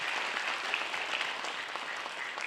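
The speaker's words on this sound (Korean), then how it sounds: "박수를 보내주시기 바랍니다." Steady audience applause fills a Korean award ceremony honoring integrity, a continuous even wash of clapping with no pauses, moderately distant and sustained throughout.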